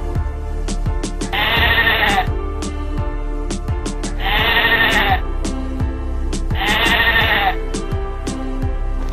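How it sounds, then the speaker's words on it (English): Sheep bleat three times in wavering calls at regular intervals, close and clear, over a steady farmyard background with no talk. "Sheep."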